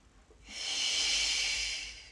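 One long, steady exhale through the nose or mouth during a mat exercise, a soft airy hiss that swells and fades over about a second and a half, close and alone.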